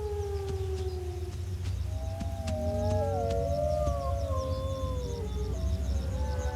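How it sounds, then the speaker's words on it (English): Arctic wolves howl in the distance, several long, gliding voices overlapping and rising and falling over a steady low wind-like rumble. "An Arctic wolf's distinct howl can be heard across 5 kilometers."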